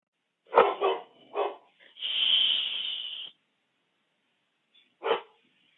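A dog barks several times indoors at a noise outside, short sharp barks spaced across a few seconds with a longer hissy rush between them, fairly close and otherwise quiet.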